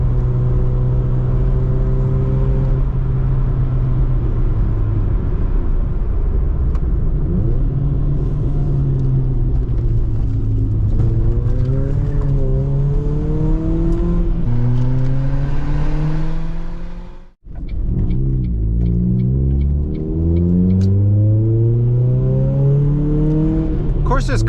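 A Ford Focus fitted with coilovers drives hard through a set of curves, its engine droning and rising and falling in pitch as it revs, with a brief lull near the end before it pulls again, while someone talks over the rumble.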